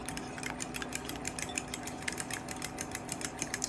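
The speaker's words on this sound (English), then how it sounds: "So I continue to whisk it until it's thoroughly mixed together." A sugar mixture for Nigerian chin chin dough is whisked with powdered sugar, a fast, even train of soft ticking strokes against a bowl, close and quiet, running continuously without speech.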